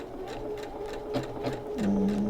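A domestic sewing machine fitted with a blind hem foot runs a blind hem stitch close up, its needle pulsing in a rapid steady rhythm with a rising whine as it speeds up near the end.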